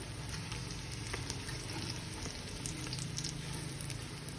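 Sliced onions fry in ghee in a pan over a low flame, giving a steady, dense sizzle with faint crackles and pops, continuous and close throughout.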